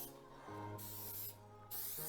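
Cooking spray hissing from a can onto a loaf pan before flouring it for a coconut pound cake: two short bursts of close, bright aerosol spray separated by a brief pause.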